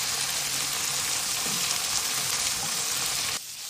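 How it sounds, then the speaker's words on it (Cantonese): Roast pork sizzles steadily in a hot wok with oyster sauce about to go in, a loud, continuous frying hiss that drops off abruptly near the end. "煎一煎啲燒肉，煎香燒肉之後落蠔油"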